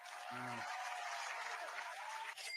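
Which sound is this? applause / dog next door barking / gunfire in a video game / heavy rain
applause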